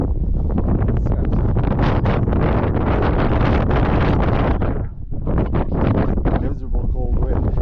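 Strong cold wind buffets the microphone on a mountain ridge between Viking Ridge and Sugarbowl, a loud continuous roar and rumble with one short lull near the end.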